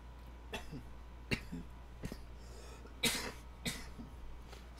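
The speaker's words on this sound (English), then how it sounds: "Still got a cough." A person coughs several times during a live gaming stream, short rough bursts spaced about a second apart, one louder double cough in the middle, close to the microphone against a quiet background.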